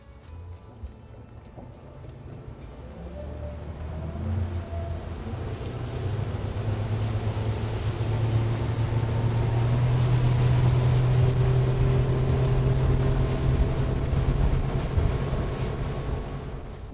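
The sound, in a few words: boat running at wide open throttle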